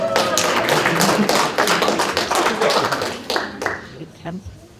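A council-chamber audience at the San Mateo State of the City address claps in a brief burst of sharp hand claps that thins out and fades to scattered taps near the end.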